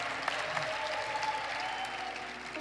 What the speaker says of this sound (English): You think you're cheering them now